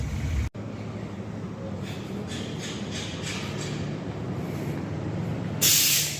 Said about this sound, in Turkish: Arka tampon boyanıyor.